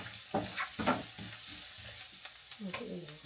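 Garlic frying in a hot kawali in a home kitchen, a close, steady sizzle with soft pulsing bursts of crackle as it is stirred.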